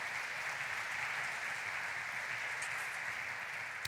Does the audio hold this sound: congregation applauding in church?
yes